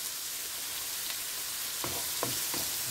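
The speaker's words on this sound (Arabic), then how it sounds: "دابا غنقليو هادشي كلشي اونسومبل، نقلاو مليح" Seafood paella ingredients frying together in a pan, a steady dense sizzle near the pan with a few brief scraping stirs toward the end and no speech.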